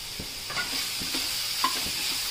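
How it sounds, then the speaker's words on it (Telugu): Coarsely grated carrot for gajar halwa frying in a pan, with a soft continuous sizzle and occasional scrapes of a spatula stirring it, close and alone with no voices. "ఇలా ఒక 7 to 8 minutes వేపుకోవాలి."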